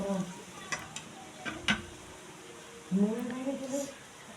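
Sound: stirring biryani meat and potatoes in pot

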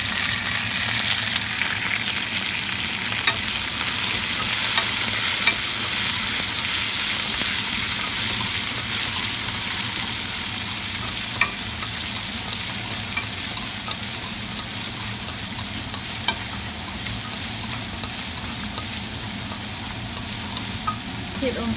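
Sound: stir-frying beans with bacon in a wok

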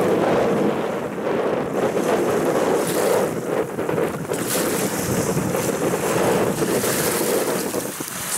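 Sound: stormy sea waves

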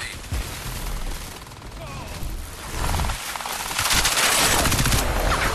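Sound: gunfire in Crysis 3 video game

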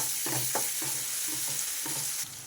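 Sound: ginger garlic paste frying in a pan

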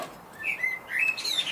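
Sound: bird chirping in garden

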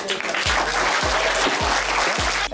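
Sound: applause

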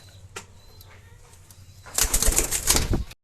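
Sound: pigeon flapping its wings

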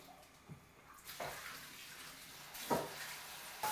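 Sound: water poured into a pot for rice

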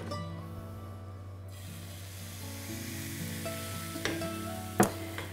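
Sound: pancake batter frying in hot fat in a pan

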